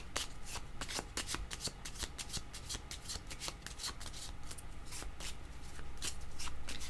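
Tarot cards shuffled by hand in a steady run of crisp riffling slaps for several seconds, close and fairly loud, with no voices over them.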